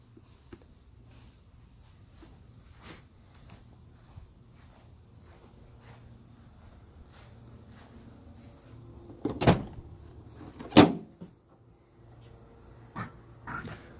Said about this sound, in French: Je vais ouvrir la porte en arrière